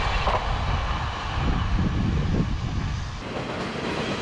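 A Tze-Chiang express train rolls past a bike path in Qingshui, a steady broadband rumble of wheels and carriages holding nearly level for a few seconds.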